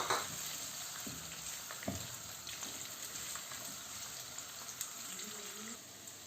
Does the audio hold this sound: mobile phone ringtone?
no